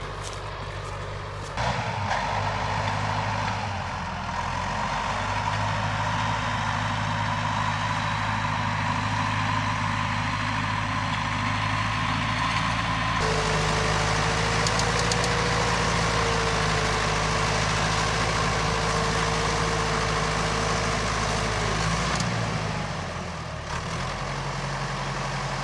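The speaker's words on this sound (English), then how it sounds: "the tractor is having a hard time" A tractor engine labours under heavy load on a snow-covered mountain, a loud, continuous low drone whose pitch shifts and sags as it strains, with no voices.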